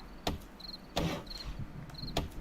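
Crickets chirp at night in 7 Days To Die in three short, evenly spaced high trilling bursts. They sound clear but modest in level, with a few louder clicks between them and no talking.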